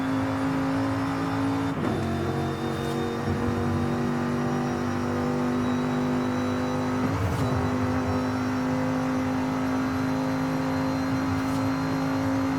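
A car in Forza Horizon 5 holds a steady high-rpm engine drone at top speed, loud and continuous, with brief shifts in tone near the two- and seven-second marks, and no voices.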